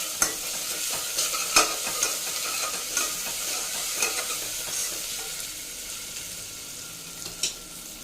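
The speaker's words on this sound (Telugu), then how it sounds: "అల్లం వెల్లుల్లి పీస్ వేసేసుకుంటున్నానండి ఒక టీ స్పూన్ వేసుకున్నాను అంతే ఇది మిక్స్ చేసుకుందాం" Ginger garlic paste being stirred into vegetables frying in a pan: a constant sizzle with a string of sharp spatula scrapes and taps at an uneven pace, close up, no voices.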